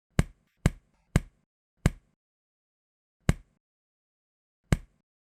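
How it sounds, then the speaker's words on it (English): Six sharp, isolated body-percussion hits from a simultaneous chest thump and finger snap, loud and close in clean silence: three in quick succession, then a fourth, then two more after longer gaps. "the simultaneous chest thump and finger snap"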